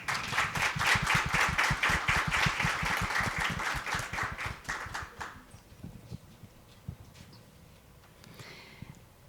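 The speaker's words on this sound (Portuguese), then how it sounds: "Uma salva de palmas." Audience applause at the opening of a conference panel, rhythmic and fairly loud for about five seconds, then fading to a few scattered claps and quiet room noise.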